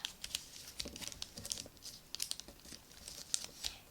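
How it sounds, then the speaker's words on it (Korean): Paper being folded and creased for an origami eagle mini car, with close, crisp crinkling and rustling in short irregular bursts throughout, no talking. "이렇게 반대쪽도 접어줍니다. 펴고 또 세모접기로 하겠습니다."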